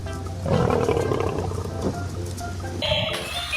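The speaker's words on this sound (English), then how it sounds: "lion" A toy lion lets out a loud, sustained roar that rumbles and swells for a few seconds before fading, followed by a brief higher mechanical tone, close up with no talking.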